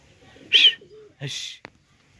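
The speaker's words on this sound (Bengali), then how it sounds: "এদের অস্ট্রেলিয়ান ঘুকু দেখাই আপনাদের এদের দেখতে পাচ্ছেন অস্ট্রেলিয়ান ঘুকু" Australian doves in a park aviary give short soft coos with brief chirpy bursts, close and isolated against quiet surroundings.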